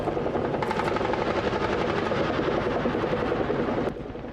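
A Bell AH-1 Cobra attack helicopter flying, its dense rotor chop and turbine roar loud and continuous, easing slightly near the end with no voices.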